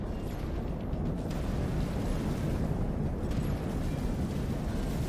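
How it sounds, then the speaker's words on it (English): Turrets firing in the X4 space game, heard as a continuous low rumbling barrage of muffled blasts, steady and dense throughout with no talk. "I guess turrets are still firing."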